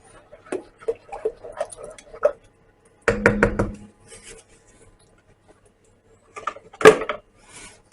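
A spoon scrapes thick BBQ pulled pork sauce inside a pot, in close, intermittent bursts of rubbing and knocking separated by quiet pauses.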